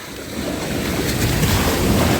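Sea waves wash onto the shore at Langeron beach in Odesa on an Easter morning, a loud continuous surf roar with wind buffeting the microphone.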